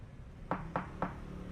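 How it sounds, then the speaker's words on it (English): Three evenly spaced knocks on a door, crisp and moderately close, stand out against a quiet background as an audiobook sound effect. "hears a knock at the door before it opens gently"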